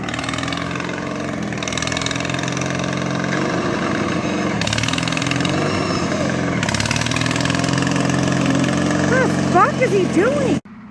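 A lawnmower engine runs steadily at close range with a droning, buzzing tone and shifting pitch, while people talk over it, before it cuts off abruptly at the end.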